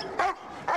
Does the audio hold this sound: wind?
no